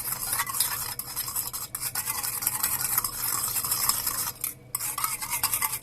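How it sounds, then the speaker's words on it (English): A spoon stirs sushi vinegar mixed with sugar and coarse salt in a bowl, scraping and clinking close up in a continuous, busy rhythm with one brief pause near the end. "Stir well."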